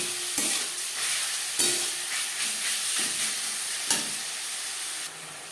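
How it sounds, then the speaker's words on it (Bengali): Marinated chicken and onions sizzle steadily in a hot pan for chicken chow mein. Spatula scrapes and stirring thumps recur every second or so over the constant hiss, close and loud. "দিয়ে দেবো ম্যারিনেট করে রাখা চিকেন। পেঁয়াজের সাথে চিকেন বেশ ভালো করে মিক্স করে দেবো।"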